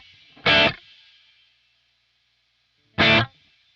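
Electric guitar played through reverb as the crossover setting is adjusted, two separate strummed hits each followed by a bright lingering tail, then near silence, with no voices.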